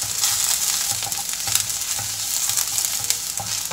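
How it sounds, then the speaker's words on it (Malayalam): Onion-based masala for an Indian egg curry sizzles steadily in a hot pan while a spoon stirs and scrapes at intervals, close and continuous with no speech. "ഇനി ഇതിൻ്റെ പച്ചമണം മാറുന്ന വരെ ഒന്ന് വഴറ്റി കൊടുക്കണം"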